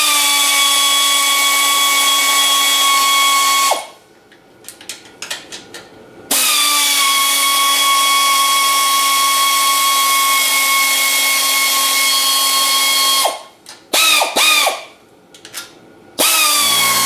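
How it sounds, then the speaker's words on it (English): An air ratchet whirs in two long steady runs with short breaks between them, loud and close, as it spins bolts off a 1987 Honda XR200 engine during removal. "I also like to use the air ratchet for this because it just makes it a little faster"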